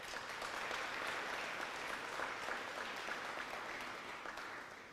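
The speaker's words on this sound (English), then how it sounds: "please join me in acknowledging the both of them and the incredible team behind the scenes who make this event so successful with a massive round of applause" A large awards ceremony audience gives a sustained round of applause, dense even clapping that fades slightly toward the end.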